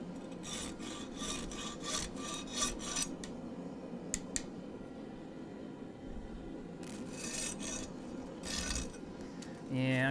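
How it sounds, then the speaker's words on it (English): A hand file rasps against a forged knife blade in bursts of scraping strokes, some quick and rhythmic, others spaced apart, moderately close with a faint clatter at the end. "Yeah, I'm gonna have to grind most of this off with this file."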